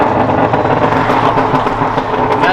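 A catless 2017+ Honda Civic Si engine with the throttle let off from about 3,000 RPM, giving a loud, steady, rumbling exhaust drone with crackly texture throughout and no voices.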